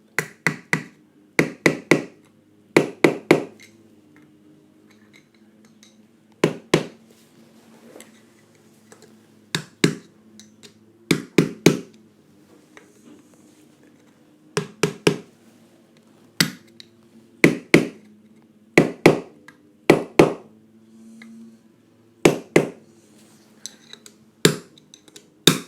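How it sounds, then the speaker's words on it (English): Hammer tapping a turbo cartridge into place during a 1.6 HDi turbo replacement, sharp metallic taps coming in clusters of two to four with short pauses between, close and loud over a quiet background. "I have to try to hammer that one"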